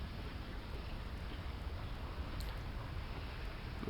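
Virtual rain falling indoors inside a Second Life building, a dense, even hiss of steady downpour with no pauses, loud and close.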